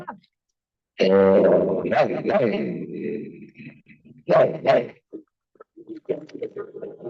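A voice imitates a big dog barking in gruff, throaty bursts, with a pause before a second round of barks and some softer noises trailing off.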